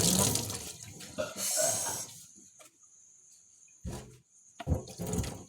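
Water is poured into a container during washing up, first as a few seconds of splashing, then in short bursts between quiet gaps.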